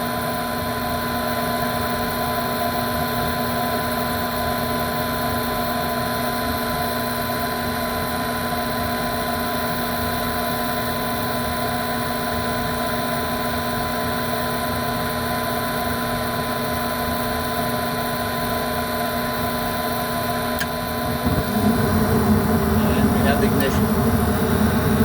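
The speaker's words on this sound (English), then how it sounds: "Furnace is obviously running." Steady, loud mechanical drone and hum of an Airtemp gas furnace running noisily after ignition, continuous throughout, with a rougher rumble rising near the end.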